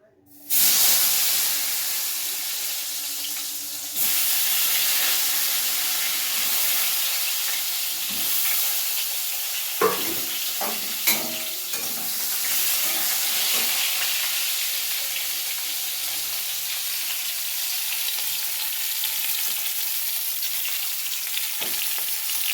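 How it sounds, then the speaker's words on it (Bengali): Pointed gourds, salted and turmeric-coated, hit hot oil with a sudden loud sizzle that settles into a steady, dense frying hiss, broken by occasional sharp pops and stirring clatter. "সেই তেল গরম হয়ে যাওয়ার পর পটলগুলো আমি ছেড়ে দেবো"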